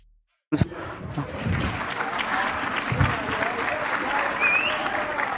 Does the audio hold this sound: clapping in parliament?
yes